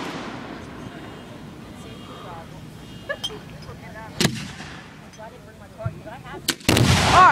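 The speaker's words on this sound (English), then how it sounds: "I'm saying best fireworks show ever." Fireworks at an outdoor show go off as a series of sharp booms and crackling bursts, some distant and some nearer, with people talking and voices between the blasts.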